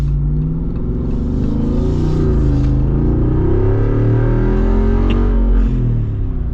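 A Jeep Wrangler Rubicon 392 with its V8 rumbles loud and close, revving in deep rising and falling surges over a steady low idle that runs the whole way through.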